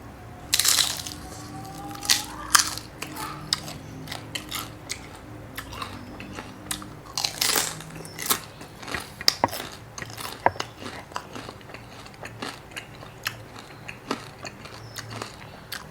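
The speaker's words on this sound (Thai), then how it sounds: "เสียงกรอบ เนียนๆเลยนี่" Crunchy bites and chewing while eating khanom jeen nam ngiao, a Thai rice noodle dish, with several sharp crisp bites early on followed by quieter intermittent crunching and mouth sounds, close and with no talking.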